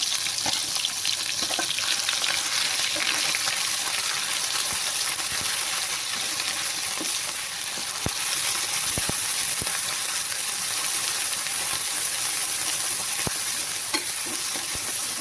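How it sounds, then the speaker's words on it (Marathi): Onion and garlic masala paste fries in hot oil for paneer masala, giving a loud, steady sizzle with occasional utensil clinks from stirring and no voices. "तेल साधारण गरम झालं की आपल्याला हे पहिले आपल्याला हे मसाला सोडायचा आहे. कांदा, लसूण पेस्ट."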